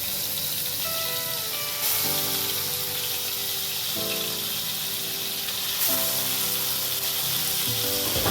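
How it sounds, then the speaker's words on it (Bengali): Pieces of aar fish fry in hot oil, giving a dense, steady sizzle that is close and even throughout, with faint tonal hums underneath and no voices. "একটু মাছটা ভাজা হোক।"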